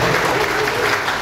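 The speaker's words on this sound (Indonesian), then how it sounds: "kita beri tepuk tangan dulu buat" A brief burst of crowd applause in a hall during a panel discussion on halal tourism, loud and dense, with a voice speaking over it.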